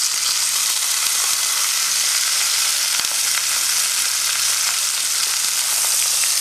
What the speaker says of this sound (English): this is just a straightforward sealing stage, nothing more, nothing less